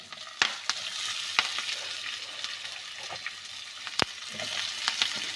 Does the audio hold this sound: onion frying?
yes